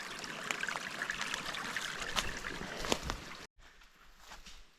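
Water of a small creek streams and trickles steadily during a crossing on a wooded trail, a close, continuous babble with scattered splashy peaks, cutting off abruptly near the end to a quieter hiss.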